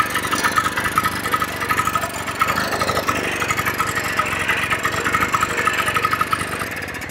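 A Sachs 503 engine runs in gear, a steady close-up drone with a rapid, even pulsing beat that holds at a constant pace with no talking over it.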